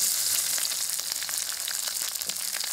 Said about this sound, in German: Es geht los mit dem Braten der Gemüse.